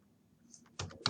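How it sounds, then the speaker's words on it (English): Typing on a computer keyboard, a short quiet stretch and then a few close, quick key clicks in a brief burst. "So I'm just going to type it over here"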